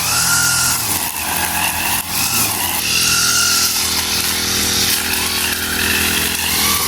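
Gas-powered grass cutter running outdoors beside a road, a loud, close, continuous high-pitched buzzing whine with slight shifts in engine pitch throughout.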